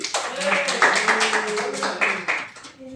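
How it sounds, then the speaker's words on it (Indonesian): A small group at an outreach talk claps steadily for a few seconds, dense and close, with voices mixed into the applause. "Tepuk tangan buat adik Randy."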